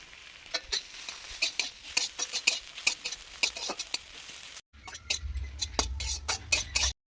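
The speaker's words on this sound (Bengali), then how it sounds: "তেল দিলাম, এই গাজর ছাড়ছি, গাজরটা ভেজে নিয়ে" Oil crackles and sizzles steadily around carrot frying in a pan, with scattered sharp pops and a brief break partway through.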